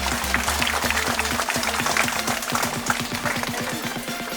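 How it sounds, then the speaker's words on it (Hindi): A crowd at a silver jubilee ceremony in Kalapahar, North and Middle Andaman, claps loudly and continuously over a steady, thumping rhythmic beat underneath. "तो मैं सबों के लिए एक बार जोरदार अपने अपने लिए ताली बजाएं"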